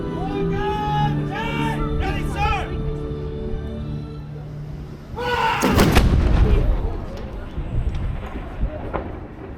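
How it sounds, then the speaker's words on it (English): A single heavy ceremonial cannon boom in Malta with a broad rumbling blast around the middle, preceded by crowd noise and shouting, with voices continuing as it rolls away. "Twice a day, at noon and 4 p.m., a cannon shot is fired here with great ceremony."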